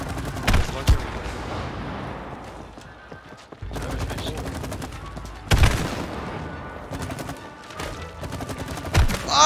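Rapid gunfire from shooting in the co-op video game It Takes Two, dense volleys with sharp bursts and booms coming in waves, loud and close, with brief pauses between.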